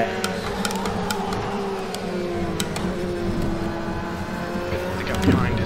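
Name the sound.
Ferrari race cars driving in a racing video game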